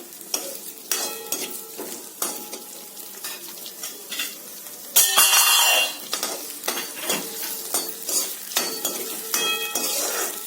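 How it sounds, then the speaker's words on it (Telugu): Onion pieces and green chillies fry in oil in a pan, sizzling steadily under repeated clinks and scrapes of a stirring spoon, with one loud burst of sizzle midway. "ముందుగా ఉల్లిపాయ ముక్కలు కొద్దిగా వేగిన తర్వాత పచ్చిమిరపకాయలు యాడ్ చేయాలి"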